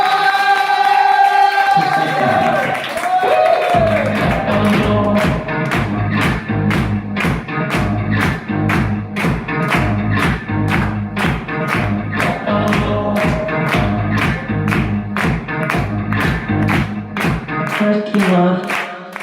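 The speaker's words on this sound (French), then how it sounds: "Je vous demande d'applaudir bien fort notre lauréat de ce soir" An audience at the Festicannes evening applauds winner Thomas Touchard, clapping in a steady rhythm against loud music with a strong regular beat.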